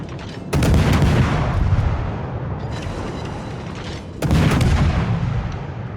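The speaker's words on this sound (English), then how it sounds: "Nobody can spot me, so start opening up my guns." In the naval combat video game World of Warships, a destroyer's main guns fire in two heavy booming salvos several seconds apart, each followed by a long rumbling roar and no talking.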